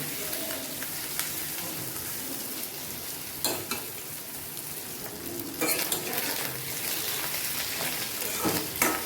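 Fish roe frying in a pan with continuous close sizzling and crackling pops, punctuated by stirring scrapes and a few sharper bursts of spattering throughout.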